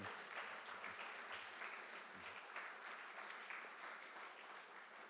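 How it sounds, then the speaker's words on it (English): An audience claps at a journalism award ceremony, even sustained applause heard from a distance at moderate level with no voices over it. "Big round of applause for the legacy of Izzy Stone"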